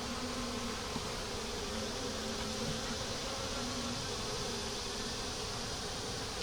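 Honeybees buzz around a nuc hive being combined with another, a steady, dense hum of many bees close by, continuous and unbroken with no talking.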